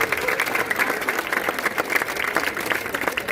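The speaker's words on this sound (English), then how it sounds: "So how about a round of applause for our partnership with the YMCA." Steady applause from an audience at an elementary school dedication and ribbon-cutting ceremony, a dense, continuous patter of clapping lasting throughout with no speech over it.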